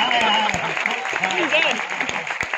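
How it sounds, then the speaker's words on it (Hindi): Audience clapping at a Hindi poetry reading, short bursts of applause heard under and between a voice talking in the foreground. "या तालियां जोरदार आती है।"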